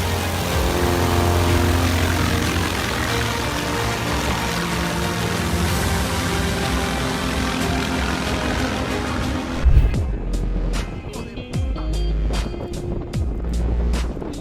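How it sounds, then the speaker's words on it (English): An airplane engine roars through a very short takeoff, a steady, loud droning rumble that shifts abruptly near the end into a thinner sound with sharp ticking bursts. "This is probably the shortest takeoff clip you'll ever see on the internet."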